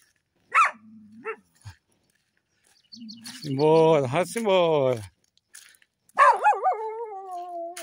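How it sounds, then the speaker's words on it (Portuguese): Dogs on a rural dirt path in the Brazilian sertão give a couple of short barks and a longer whining, yelping vocalization, close by, while someone talks briefly between them. "E vai encontrando os cachorros pelo caminho."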